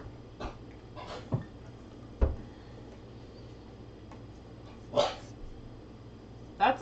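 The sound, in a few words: dog barking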